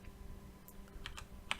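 Computer keyboard typing an IP address, a short run of quiet, scattered key clicks with a louder cluster near the end, no voices.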